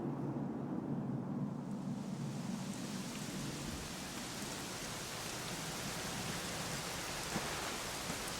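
Steady rain pours in the world of Dragon Quest XI, a continuous hiss of falling water with a soft low rumble fading out early on, even and enveloping, with no voices.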